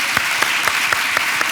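Applause for the youngest participant at a Tomiño education-week talk: a loud, continuous wash of many hands clapping, with a few rhythmic accented claps standing out at a steady pace, heard on its own without speech.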